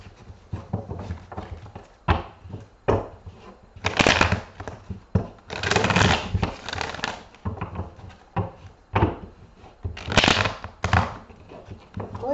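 Tarot cards are shuffled in several bursts of riffling and flapping, close and fairly loud, separated by brief pauses and handling sounds.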